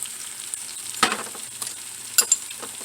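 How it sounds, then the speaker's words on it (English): Mushrooms seasoned with garlic salt and onion powder fry in a pan with a steady, hissing sizzle, broken by a few sharp clacks and scrapes from stirring. "add some garlic salt to the mushrooms rather than just plain garlic or just plain salt"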